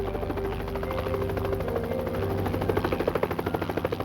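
Helicopters circle overhead during a night search along railroad tracks, a steady droning rotor roar with a pulsing chop that grows more distinct toward the end, loud and continuous with no talk.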